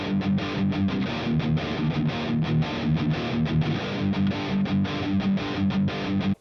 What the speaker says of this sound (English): This is a compressor that I've actually got happening before any of the distortion.